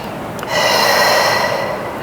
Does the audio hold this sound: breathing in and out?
yes